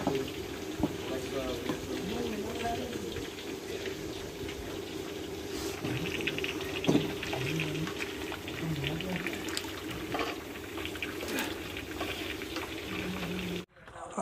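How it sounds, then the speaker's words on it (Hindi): A pot of water with rice masala seasoning comes to a boil on a stove, giving a steady bubbling, hissing wash heard close up that runs without a break before cutting off at the end. "अभी ये जी चावलों का मसाला जो है इसमें उबाल आ गया, पानी में डाला था उसमें उबाल आ गया"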